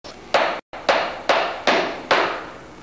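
Hammer strikes driving nails into an aircraft canard part in a homebuilt-aircraft workshop, five sharp, loud, evenly spaced blows with brief ringing decay, heard alone without talk.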